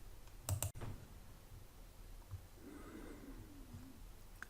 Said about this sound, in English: which I now select by double-clicking on it